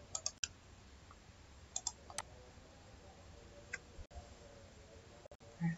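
Typing on a computer keyboard while filling in a form field: a few faint, scattered key clicks, some in quick pairs, separated by quiet gaps in a hushed room.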